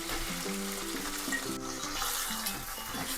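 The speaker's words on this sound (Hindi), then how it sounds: "प्याज को अच्छे से भून लेंगे।" Sliced onions fry in a pan with ginger-garlic paste for a vegetable kofta curry. The sizzling is steady and close, with faint stirring sounds underneath.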